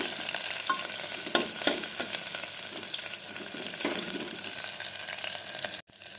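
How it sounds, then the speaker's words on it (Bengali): Vegetarian khichuri cooking in hot oil: a continuous close sizzle and crackle with a few soft stirring scrapes, no voices, briefly cut off near the end. "ভাজা হচ্ছে, ভাজা হোক ভালো করে"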